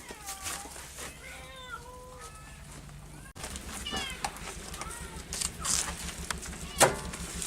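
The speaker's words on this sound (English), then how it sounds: "These are jungle cats." A jungle cat at a cat sanctuary in Wagener, South Carolina, being fed chicken, gives a series of close, rising and falling meow-like calls over a noisy background of other animal sounds.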